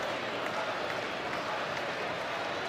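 A college wrestling crowd at an Oklahoma vs Oklahoma State dual meet gives a steady wash of cheering and clapping from a distance, a broad continuous roar with no single voice standing out.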